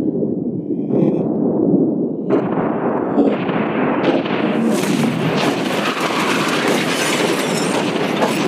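A yacht blown up with explosives gives a loud, sustained broadband roar that swells in stages and keeps rumbling, with no talking.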